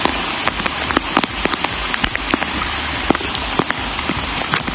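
Heavy monsoon rain pours down in flood-hit Udupi, Karnataka, a loud continuous hiss with dense drops spattering close by on hard surfaces and no voices.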